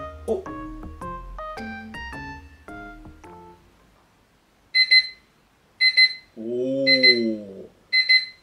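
After a short run of melodic electronic tones, a large-screen Blueekin digital clock's 5-second timer alarm sounds in repeated bursts of high, rapid beeping, with a brief hum between them.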